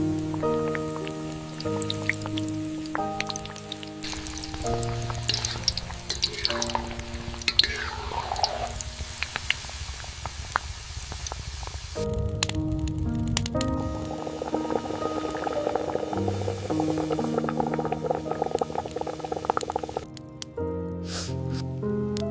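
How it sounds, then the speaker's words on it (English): Pakoras frying in hot oil in an Indian village kitchen during the monsoon, crackling and dripping sizzles heard close up alongside rain sounds, with intermittent tonal noises and no speech. "Sizzle."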